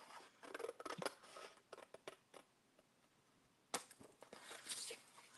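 Scissors trimming a paper page: quiet, close snips in quick bursts, then a pause, then a few more cuts with light paper rustle.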